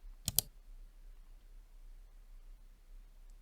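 A pair of quick computer mouse clicks during software setup, close and crisp, followed by near silence with faint background hiss.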